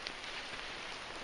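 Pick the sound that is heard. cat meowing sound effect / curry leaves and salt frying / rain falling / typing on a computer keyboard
rain falling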